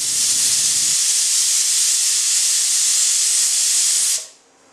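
A pressure cooker whistle releases steam with a loud, continuous, close hiss that holds steady for about four seconds and then cuts off abruptly into quiet, while palmyra sprouts cook inside.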